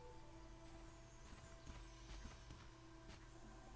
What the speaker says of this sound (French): le cheval il est quand même en train de courir